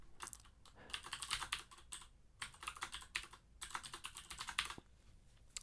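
Typing on a computer keyboard into a spreadsheet cell, with quick bursts of close key clicks separated by short pauses and no talking.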